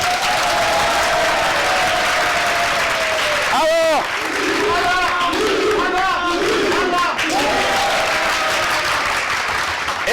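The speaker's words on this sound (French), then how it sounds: "nous allons encore les entendre s'applaudir pour s'annoncer très fort" A studio audience of students claps and cheers loudly, with whoops and shouted voices rising over the dense applause.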